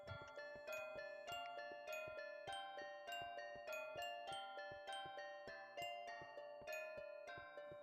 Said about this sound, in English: once we hear the Westminster chimes go off once more